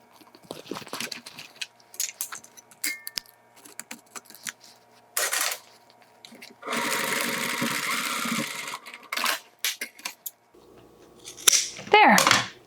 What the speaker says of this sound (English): And sew across.